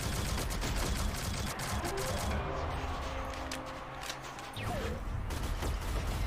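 Rapid gunfire from the mobile shooter Shadowgun Legends in a PvP match, sustained and dense throughout with layered background game effects and brief low tonal hums.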